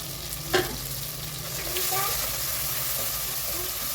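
Tomatoes sauté in a pan for Tamil paruppu keerai kadaiyal, giving a steady soft sizzle and hiss with a brief stirring clatter early on.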